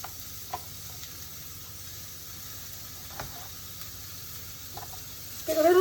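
Pieces of shark meat sizzle in a pan for a curry, a soft steady frying hiss with a few light clicks from handling, ending in a louder rustle of movement close by.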